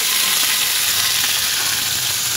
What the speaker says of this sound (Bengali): কাঁচা লঙ্কা, বাদাম আর কাজু ভেজে নেব